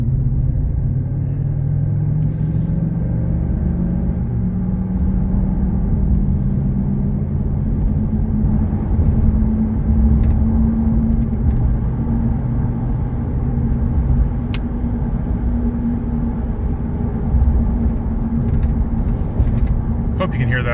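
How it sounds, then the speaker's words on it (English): Steady tire road noise inside a 2019 Ram 1500 Laramie pickup cruising at 52 mph, a loud continuous low rumble and drone that holds evenly throughout with no breaks. "Hear that road noise?"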